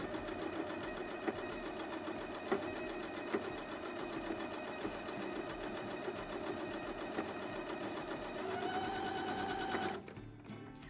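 Sewing machine stitching the ruffle of a crib pillow, a steady close rapid mechanical hum with even needle rhythm, rising slightly in speed near the end before stopping abruptly.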